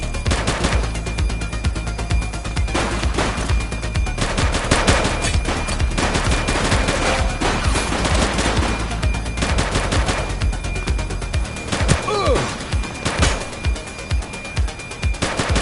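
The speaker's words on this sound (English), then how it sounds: "She's shooting!" Video game gunfire rattles in sustained rapid bursts, loud and dense throughout, with a few sharper single shots near the end.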